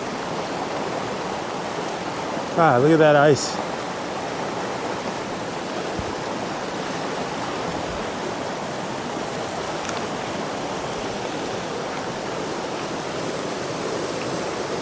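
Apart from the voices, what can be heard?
creek water flowing over rocks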